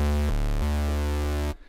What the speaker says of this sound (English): The bass sounds like this.